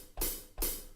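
A pair of hi-hat strikes sounded in Cubase, crisp sizzling metallic hits with a bright, lingering wash, close and moderately quiet with nothing else present.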